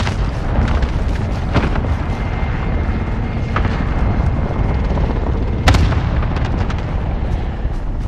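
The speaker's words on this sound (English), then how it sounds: "Allied cluster strike is coming." Cluster strike explosions in Call of Duty Warzone roll out as a dense, continuous barrage of booming detonations, with a sharper, louder blast near the end and no talk over it.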